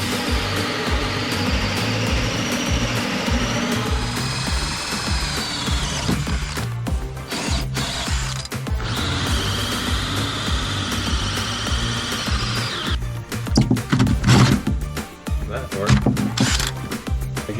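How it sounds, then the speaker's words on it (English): A 1¼-inch hole saw cuts drain holes through the stringers of a Mako 171cc boat under restoration, making two long whining, grinding bursts with a rattling stop-start stretch near the end, with a voice heard over the work. "we got our 1¼ hole saw. We're gonna drill some drain holes in this stringer here"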